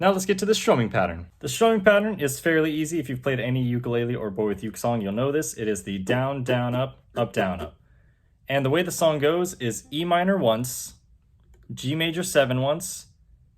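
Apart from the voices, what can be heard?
No everyday noises stand out.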